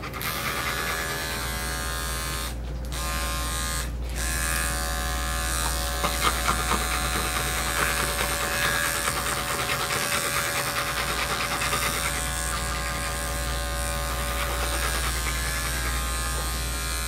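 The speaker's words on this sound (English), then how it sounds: "I don't care, I'm just shaving it out" Electric clippers buzz steadily and loudly while shaving matted fur off a golden retriever during a summer haircut, a continuous close-up motor drone with slight changes in load as the blades move through the mats.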